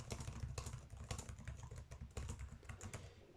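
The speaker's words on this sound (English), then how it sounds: "type in the following command" Someone types a command on a Windows 10 computer keyboard: a rapid, uneven run of close, crisp key clicks lasting a few seconds, quiet and alone with no speech.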